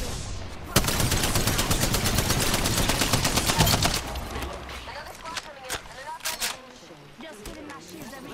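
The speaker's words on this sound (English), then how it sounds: "I'm getting sniped at." Rapid, loud sniper and gunfire bursts in the battle royale game Apex Legends, a dense volley for several seconds that thins into scattered sharp shots and footsteps.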